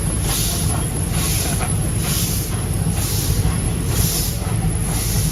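An antique steam train in Thailand rolls into Salaya station, a steady close rumble of wheels and carriages with a constant hiss and faint squealing throughout, and no voices.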